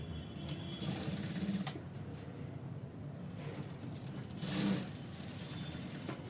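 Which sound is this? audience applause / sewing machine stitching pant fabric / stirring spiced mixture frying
sewing machine stitching pant fabric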